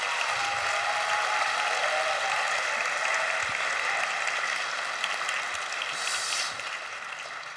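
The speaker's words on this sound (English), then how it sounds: "vous pouvez l'applaudir déjà." A festival audience claps steadily for actress Christina Hendricks, a dense, even wash of applause from a crowd that fades slightly toward the end.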